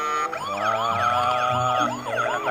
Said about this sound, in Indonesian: Wah, kita nyalakan ambulannya.